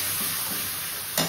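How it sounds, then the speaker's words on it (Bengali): Boiled potatoes are stirred and fried with spices in a pan, giving a brief, steady hiss that swells slightly at the end. "এবার দিয়ে দেবো এটা, তো মশলার সাথে ভালো মতো কষিয়ে নেব।"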